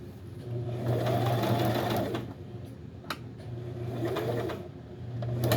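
A sewing machine back stitches and then runs forward, giving two steady mechanical hums of a couple of seconds each with a brief pause between, close and clear.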